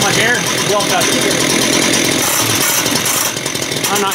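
A rebuilt concrete saw engine runs loud and continuous at full throttle, a harsh, steady roar filling the space close up.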